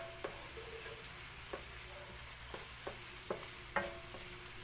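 Chopped onions sizzle in a frying pan at the start of a mixed seafood dish; a steady frying hiss runs throughout, broken by faint, regular clacks of stirring.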